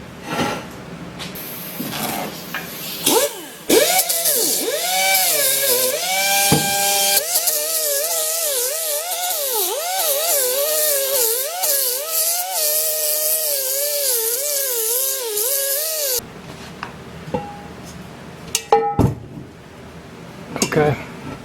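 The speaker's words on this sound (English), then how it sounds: "I'm going to use this grinder, pneumatic grinder," Pneumatic grinder smoothing the bottom of a cast iron pan, a loud sustained whine with wavering pitch that runs steadily for several seconds after brief starts, then cuts off, leaving scattered clanks.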